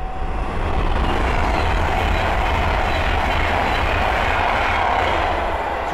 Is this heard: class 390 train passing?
yes